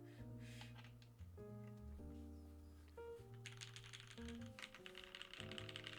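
Typing on a Noxary 380 mechanical keyboard, with quiet, rapid clacking keystrokes in an irregular stream over a low background hum, faint and close.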